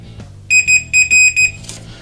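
A multimeter on continuity test beeps in a series of five short, loud electronic tones during repair work on a vintage toy locomotive, with soft handling noises around them.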